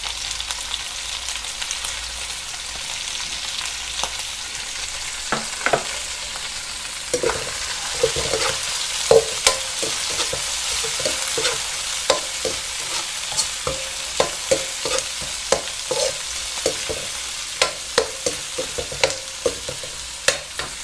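Cuttlefish stir-frying in hot oil in a pan, a steady loud sizzle with frequent sharp crackles and scraping stirring clatters throughout, no voices.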